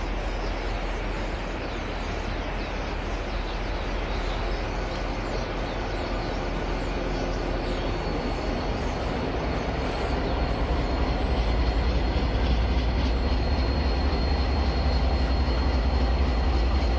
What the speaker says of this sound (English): train 975 crosses the Tuolumne River as it continues its trip east